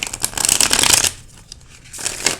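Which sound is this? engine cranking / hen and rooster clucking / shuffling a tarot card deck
shuffling a tarot card deck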